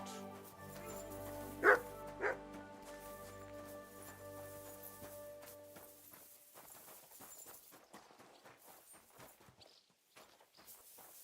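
A dog in Kingdom Come Deliverance 2 gives two sharp close barks over a low droning background, then footsteps and ambient game sounds follow.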